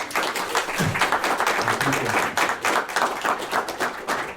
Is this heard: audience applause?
yes